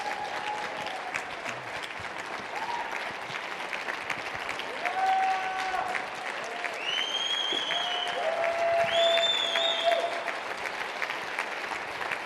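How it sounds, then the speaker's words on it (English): An audience gives a company a big round of applause, steady clapping holding for the full stretch with a slight swell toward the end, and faint whistles or cheers rising above it. "So give a big round of applause for the company."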